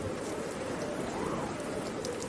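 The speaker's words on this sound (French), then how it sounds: "la dernière tempête du mois est en train de frapper maintenant Atlantic" Storm rain falls steadily in Atlantic City in late October, a dense, continuous hiss of heavy rain with no talk over it.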